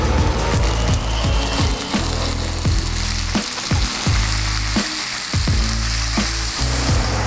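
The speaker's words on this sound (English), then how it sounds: "And I'm gonna get my shrimp in." Shrimp frying in a pan of butter and garlic, a loud continuous sizzle with scattered crackles and stirring scrapes, close up and without speech.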